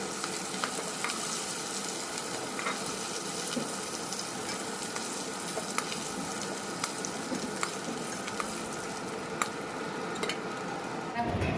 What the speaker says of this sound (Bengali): জিওল মাছ ভাজা হচ্ছে